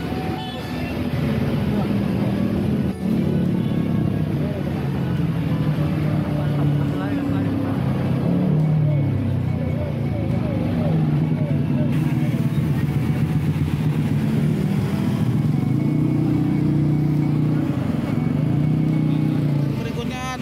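A bus, BM099 bound for Wonogiri, Purwantoro and Pacitan, pulls out of the crowded Ponpin bus terminal during the 2024 mudik rush, with a steady rumbling diesel engine close by and people talking over it throughout.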